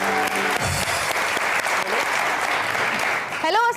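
Studio audience applause on a Pakistani entertainment show, steady clapping throughout under a talking voice, with a speaker's voice rising over it near the end.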